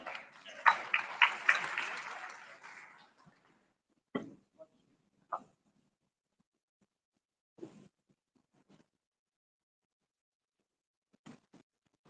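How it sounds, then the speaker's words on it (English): A brief burst of applause from a small workshop audience fades within about three seconds, followed by a few scattered faint knocks and taps. "A big round of applause."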